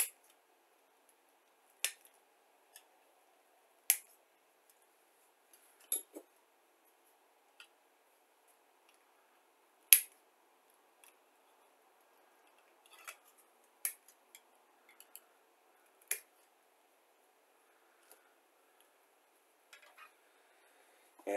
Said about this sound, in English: Okay, so we're very carefully going to snip these off.